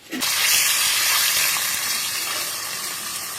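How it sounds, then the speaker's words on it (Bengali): Loud, steady sizzling of fish frying in hot oil, beginning abruptly and continuing as a bright crackling hiss close by. "এখন বাকি মাছ কটা একইভাবে ভেজে নেব"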